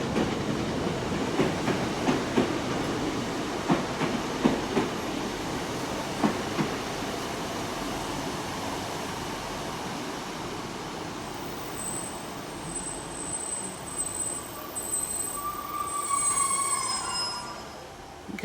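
A Great Western Railway Class 150 diesel unit at Exeter St David's, its wheels squealing in high, drawn-out tones over a steady rumble, with clicking rail joints early on, fairly close.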